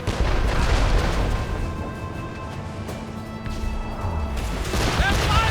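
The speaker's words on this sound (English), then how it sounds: "They're firing, sir!" Ship cannon fire in the Assassin's Creed Rogue video game, a run of deep booming blasts rolling under steady battle noise, loud and close, with shouted voices mixed in.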